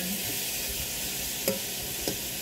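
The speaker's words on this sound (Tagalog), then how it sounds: "Ayan po natin at ating i-stir fry lang siya sa ating butter." Pork steak stir-frying in butter in a pan, a steady crackling sizzle with a couple of soft clicks of a utensil stirring, close and without voices.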